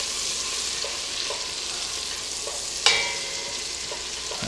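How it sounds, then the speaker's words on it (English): Lobster and crab claws fry in a pan with a steady soft sizzle, broken by a few light stirring clicks and one sharper clink of a utensil, with no talking. "Now, Charlotte, we're going to cook this up for just a few minutes, just to get them nice and golden brown."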